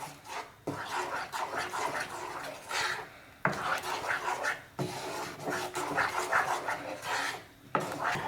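A spoon stirs thickening gooseberry (amla) jam in a pan, giving steady close scraping and rasping strokes with a few sharp knocks against the pan, no voices.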